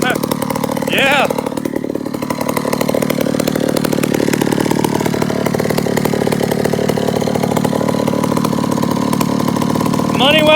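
Chainsaw engine running at a steady idle, loud and close with a continuous buzzing drone, while a person talks over it.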